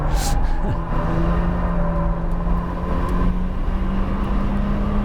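A 2020 Honda Civic Si, a 205-horsepower car on performance tires, runs hard around a tough race track, its engine droning steadily loud from start to finish with a faint wind rush over the top.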